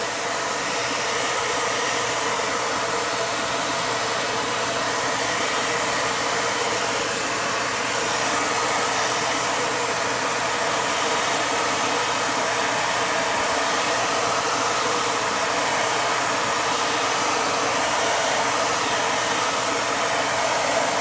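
Hair dryer blowing steadily on a chalk couture project, a loud, constant whooshing roar lasting the full stretch with no pauses and no voices.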